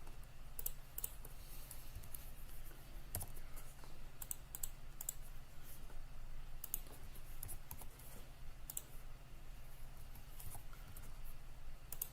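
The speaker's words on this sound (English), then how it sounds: "How loud is the mouse click?" Sharp, faint clicks tap out at irregular intervals over a low steady hum, like a computer mouse being pressed nearby.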